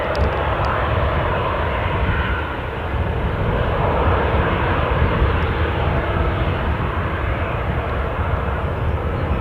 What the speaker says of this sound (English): Ryanair flight to Barcelona.